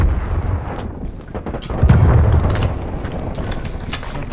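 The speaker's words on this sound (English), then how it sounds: "Throwing incendiary." Incendiary grenade and gunfire in Call of Duty: Black Ops Cold War, a dense rumbling roar of bursts, booms and crackling shots that swells loudly midway, with no talk.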